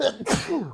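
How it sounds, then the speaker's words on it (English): A single loud sneeze bursts out during a casual livestream chat, a sharp explosive burst with a brief breathy tail, close to the microphone; someone talks briefly around it. "I get the sneezes."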